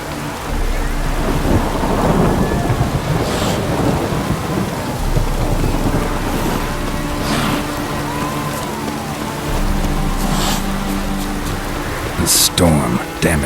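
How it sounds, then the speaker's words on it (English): A video game thunderstorm of rain pouring steadily with repeated thunder cracks and rolling rumbles, loud and continuous, with sharp bursts scattered through and a heavy crash near the end. "The storm, damn it."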